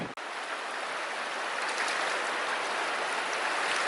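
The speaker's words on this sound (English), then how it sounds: "Sometimes the current is swift and the water is deep." Swift, deep river current rushing through the Zion Narrows slot canyon between close rock walls, a steady, loud broadband wash of flowing water with no speech.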